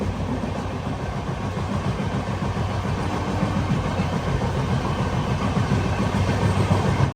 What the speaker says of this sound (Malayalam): ചമ്പ റെയിൽവേ സ്റ്റേഷനിലേക്ക് ഇതാ ട്രെയിൻ എത്തിക്കൊണ്ടിരിക്കുകയാണ്